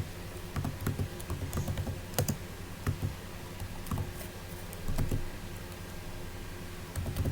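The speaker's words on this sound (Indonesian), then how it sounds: "berarti kita ketik saja di sini Beauty Adisti" Rapid clicking keystrokes on a computer keyboard in an office, steady irregular patter with brief pauses and no voices.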